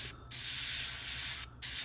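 Airbrush spraying paint at 12 psi onto a Tamiya 1/48 F-14A Tomcat model kit, a close, steady hiss that stops briefly twice, with no talk.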